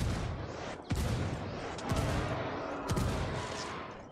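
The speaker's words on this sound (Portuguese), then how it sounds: "Eu pedi disparos indiretos para os rebeldes" A steady barrage of booming explosions and gunfire from an indirect fire strike in Tom Clancy's Ghost Recon Wildlands rolls on continuously, with three heavier thumps landing about a second apart amid the dense rumble.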